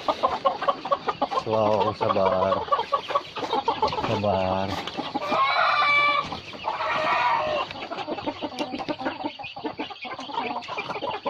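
Bangkok fighting roosters from a poultry farm cluck and crow close by, with drawn-out crowing calls rising midway among clucks while someone speaks over them.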